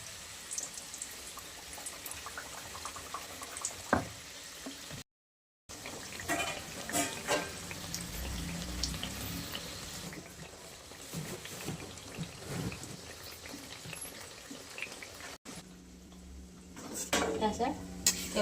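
Methi mathri frying in oil over a medium gas flame, a steady sizzle under clinks of utensils against the pan, with brief pauses and faint background voices.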